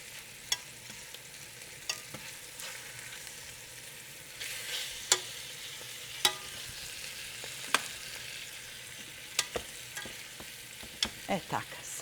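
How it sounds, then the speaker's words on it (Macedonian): Meat fries in a pan for a Macedonian cabbage stew, a soft steady sizzle at moderate volume broken by frequent sharp crackles and pops, with occasional stirring scrapes. "ова е многу кусо пржење"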